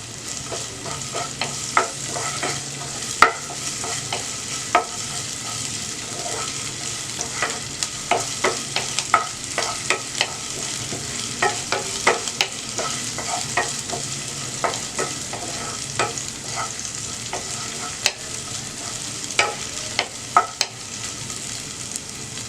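Two green chillies fry in oil in a pan, a continuous sizzle broken by frequent scraping clicks and taps of a spoon stirring against the metal, close and steady with no voices.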